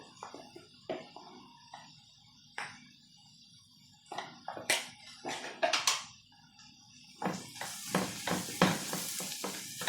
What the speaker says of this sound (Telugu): ఉల్లిపాయ ముక్కల్ని ఇట్నే ఫ్రై చేద్దాము